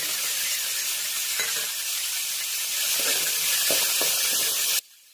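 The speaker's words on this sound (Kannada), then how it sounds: "1 ಕಪ್ ಆಗೋಷ್ಟು ಕೊತ್ತಂಬರಿ ಸೊಪ್ಪು ಸಣ್ಣದಾಗಿ ಕಟ್ ಮಾಡಿ ಸೇರಿಸ್ಕೊಳ್ತಾ ಇದ್ದೀನಿ ಎಣ್ಣೆಗೆ." Chopped coriander leaves fry in hot oil with a steady, loud sizzle and hiss, and a few soft stirring knocks sound through it before the frying cuts off abruptly near the end.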